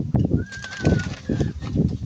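A pet pigeon coos in a steady rhythm of several low throaty phrases, close and fairly loud, with a faint whistle-like tone drifting over it.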